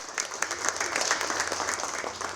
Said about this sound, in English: Let's give our outstanding team under the supervision of Mr. Chacon a very loud round of applause.